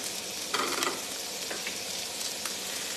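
Herbed fish and vegetables frying in a pan, giving a soft, even sizzle with a couple of brief stirring scrapes, fairly quiet and with no voices.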